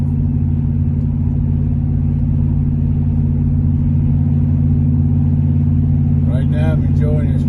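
A Dodge Charger drives along a road on a sunny day with a steady engine hum and road rumble heard from inside the cabin, a brief voice near the end.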